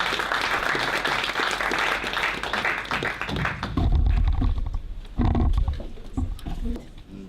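Audience applause at the AMFA 2019 event as a speaker is welcomed, a dense, steady wash of clapping that thins in the final seconds, with a few heavier low thumps near the end.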